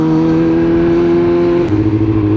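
A KTM motorcycle engine drones loudly and steadily nearby, then its pitch drops as it passes by, heard from a ride on the road with no talking.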